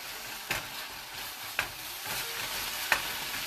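Honey sauce with salt and fresh cracked black pepper being stirred in a hot pan for a Korean rice bowl, a steady soft sizzle with three sharp spoon scrapes spaced about a second apart.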